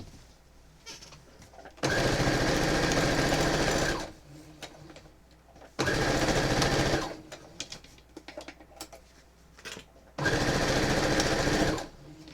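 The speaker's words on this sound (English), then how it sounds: "so let me sew these" A sewing machine stitches quilt pieces in three loud, fast mechanical bursts of a few seconds each, separated by quiet pauses with faint handling noises.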